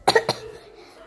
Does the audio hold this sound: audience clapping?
no